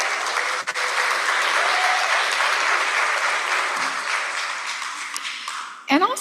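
An audience at a presentation in Arapaho United Methodist Church applauds with dense, steady clapping close by that slowly fades over several seconds, and a few louder claps sound at the end.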